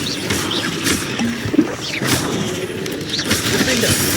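The Confringo fire spell cast in the Hogwarts Legacy video game, a fiery whoosh and crackling burst amid dense game effects and background music, loud and continuous over about four seconds.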